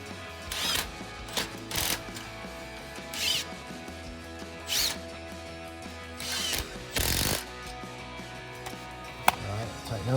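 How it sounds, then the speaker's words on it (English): A ratchet clicks in short bursts while tightening 15 mm exhaust clamps on the mid-pipes of a HEMI Challenger, with close, crisp pawl rattles separated by pauses. "And just tighten up these clamps."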